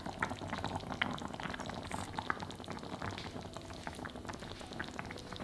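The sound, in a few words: stuffed tofu braising in a sizzling clay pot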